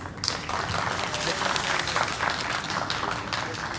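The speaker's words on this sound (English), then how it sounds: "Let's welcome him with a huge round of applause." An audience at a data center industry event applauds steadily, a dense wash of many hands clapping that carries on evenly for a few seconds.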